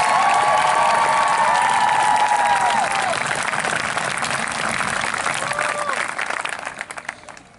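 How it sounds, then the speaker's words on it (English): Sustained applause from a large audience at a high school graduation, dense clapping with cheers and whistles rising over it early, staying steady before tapering off at the end. "Let's give them a better round of applause."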